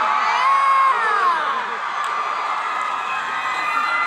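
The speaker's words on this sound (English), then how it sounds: "Let's hear some more screaming." Convention crowd at a San Diego Comic-Con 2011 panel screams and cheers in a sustained, loud roar of high-pitched shrieks and whoops, many voices blending together without a break.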